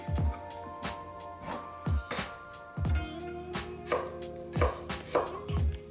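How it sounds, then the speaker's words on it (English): A knife cutting vegetables into julienne strips on a cutting board for a Vietnamese vermicelli bowl, with crisp, close chops falling in an uneven rhythm and quiet gaps between strokes. "Cut them into juliennes."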